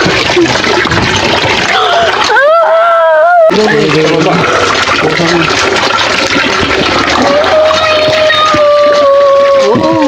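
Water poured and splashing during a child's bath, with gushing and trickling close by while people talk over it and a high voice cries out.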